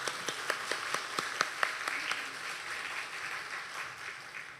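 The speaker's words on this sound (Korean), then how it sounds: "박수." Applause breaks out among a church congregation during a Sunday worship service, a run of sharp claps at the start thinning into a soft, diffuse patter that fades away, with no voices over it.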